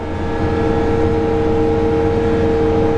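A John Deere tractor engine drones loud and steady at constant speed while the tractor drives itself hands free, a close, unbroken hum with a tonal whine.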